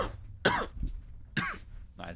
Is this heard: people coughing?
yes